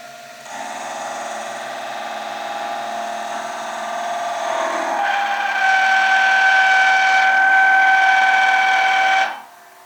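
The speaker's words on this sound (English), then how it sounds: "And I've got a 35mm Forstner bit on a Jacobs chuck." A 35mm Forstner bit in a Jacobs chuck bores into wood on a slowed lathe, giving a steady whirring, grinding drone that holds for about nine seconds, grows a little louder and higher midway, then cuts off.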